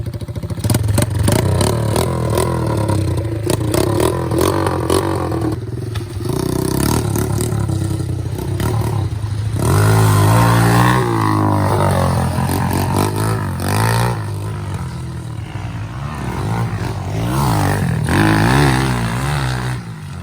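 An SSR110 Chinese pit bike with a manual clutch revs at full throttle, loud and close, its engine rising and falling through gears with rattly, buzzy pulses that rise into long high whines.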